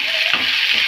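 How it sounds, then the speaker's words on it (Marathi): Onion and tomato fry and sizzle in a hot pan, a dense steady hiss with a brief stirring scrape partway through, close and loud with no talk. "कांदा थोडा शिजवून घेऊया आपण 1 मिनिट। टमाटर टाकूया।"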